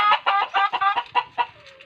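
Chickens cluck close by in quick, uneven bursts while pecking at pig feed, a busy run of short clucks from several birds.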